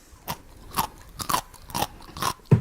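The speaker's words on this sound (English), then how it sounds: "Me too, said Daddy Pig, munching away." Food being munched at a pirate picnic, a run of close crunchy bites and chews coming in irregular bursts, loud and clear with no talking over them.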